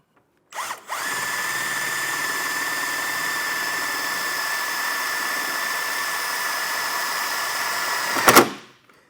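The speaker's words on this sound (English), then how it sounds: "you can just simply use an impact with that driver bit" An impact driver with a driver bit drives a self-tapping screw to mount wiring for trailer tail lights, giving one loud, continuous whirring run of about eight seconds that starts and stops abruptly.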